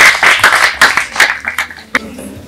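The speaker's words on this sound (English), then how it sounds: "Clap for her, clap for her." A group of children claps in short, ragged bursts of applause in a classroom, loud and close, with scattered sharp claps trailing off toward the end.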